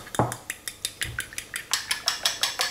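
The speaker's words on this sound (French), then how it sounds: "on va prendre maintenant les 2 œufs, on va les casser, on va les battre" Two eggs are cracked and beaten in a bowl: a sharp crack, then a quick regular series of whisking taps of utensil against the bowl, close and crisp, speeding up toward the end.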